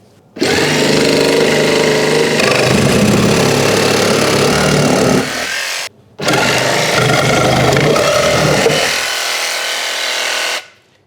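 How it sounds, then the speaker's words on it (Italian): Electric jigsaw cutting out two wooden pins from an old bar cabinet, a loud close buzzing whine in two long runs of about five seconds each, separated by a brief stop. "uso il mio seghetto alternativo e tolgo via queste due spine di legno"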